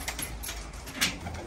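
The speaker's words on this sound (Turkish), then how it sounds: "Burada genelde kat kuşlarımız vardır." Pigeons in an Arab-style pigeon coop, giving faint, brief coos against a soft background.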